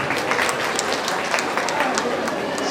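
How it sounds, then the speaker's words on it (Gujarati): A crowd at a mass wedding ceremony applauds loudly and continuously, a dense steady clapping filling the hall with no pauses. "એકવાર સદભાવના સેવા ટ્રસ્ટ માટે બધા જોરદાર તાળી પાડે"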